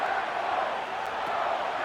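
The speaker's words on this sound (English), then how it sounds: "This crowd into it now as we get to 3rd down." A stadium crowd in the video game Madden NFL 25, during a Lions versus Packers simulation, roars in a steady, broad wash of noise as the play reaches third down.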